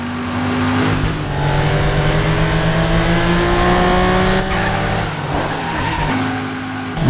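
Cars in the Driver San Francisco racing game skid and rev through city streets, a loud continuous engine roar with sweeping pitch changes as the rear end slides out, tires squealing throughout.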